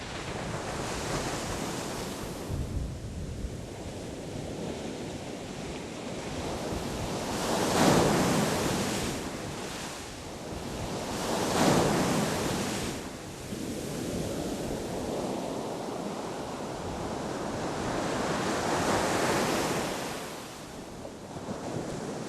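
Sea waves rolling onto the beach at Keta, a broad steady roar of surf with three louder breaking swells around eight, twelve and nineteen seconds, and wind buffeting the microphone throughout.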